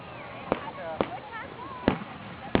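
Independence Day fireworks burst over Woodland Lake in San Antonio, with four sharp bangs spaced through the moment as people talk excitedly close by.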